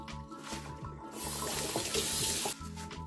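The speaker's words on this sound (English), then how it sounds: "I'm going to give them a rinse with some fresh water" Soaked bamboo leaves are rinsed under running tap water, a steady splashing flow that swells louder midway and then eases back, with no talking.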